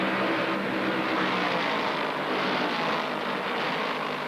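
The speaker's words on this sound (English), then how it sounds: "Cale Yarborough's Mercury beats Charlie Glotzback into the first turn" NASCAR stock cars, including a Mercury and a Plymouth, race into the first turn at Darlington in the 1968 Southern 500, a dense, steady roar of many engines without a break.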